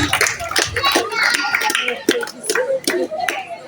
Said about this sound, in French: Obongi Prince, sous vos applaudissements s'il vous plaît.